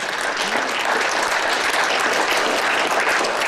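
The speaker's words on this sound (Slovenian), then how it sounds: "dajmo jim en aplavz" Applause from a studio or event audience for a rural women's association at a food table in Spodnja Savinjska dolina: thick, sustained clapping of a crowd, loud and even without talk.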